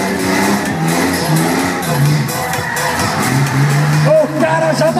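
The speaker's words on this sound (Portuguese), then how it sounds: "Acelera, acelera, Cássio." Motorcycle engine revving hard at a Moto Fest 2014 stunt show, a loud continuous snarl rising and falling amid crowd noise, with an announcer talking over it.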